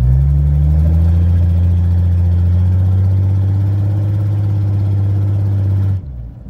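A 1982 Ford F150 truck engine on a test drive: a loud, deep, continuous drone that rises slightly in pitch, then cuts off abruptly near the end.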